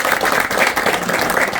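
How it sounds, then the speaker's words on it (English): Audience applause at a community hamper drive event, a dense, steady wash of many hands clapping together at close range, sustained evenly throughout with no speech over it. "So I think a big round of applause to thank"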